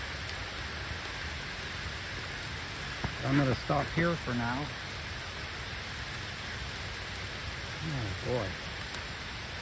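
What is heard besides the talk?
rain falling on a thin beehive lid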